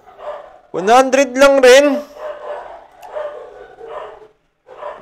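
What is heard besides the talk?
dogs barking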